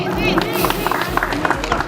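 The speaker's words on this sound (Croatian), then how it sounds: "Molim vas još jedan topli aplauz za našu Miss Turizma Hrvatske i Mistera Turizma" Warm applause and clapping from a crowd at the opening of a used car showroom in Split, honouring Croatia's Miss and Mister Tourism, with steady claps under crowd chatter throughout.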